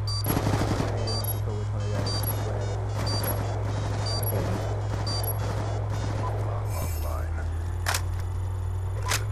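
Rapid automatic gunfire rattles through a Black Ops 2 match, crackling bursts and sharp single shots mixed with game sounds under constant chatter from players.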